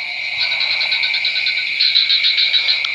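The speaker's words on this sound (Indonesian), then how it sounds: "Hanya suara kodok kanan kiri bersuara." Frogs croak in a continuous dense chorus across rice paddies at night, loud and steady throughout with no voices.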